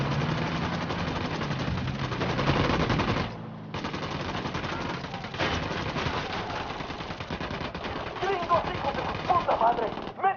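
Suppressed and unsuppressed gunfire in Ghost Recon Wildlands: sustained rapid automatic bursts, loud and dense, with a brief pause midway and crackling shots resuming, while voices speak over the action.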